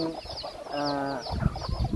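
Chickens at a rural village home cluck close by, short clucks giving way to a drawn-out harmonic call and then scuffling, busy noises.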